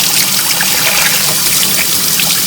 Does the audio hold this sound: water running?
yes